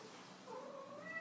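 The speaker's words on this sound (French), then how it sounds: "Je suis désolée, mais c'est mon chat." A domestic cat meows indoors, a short faint drawn-out cry heard alone.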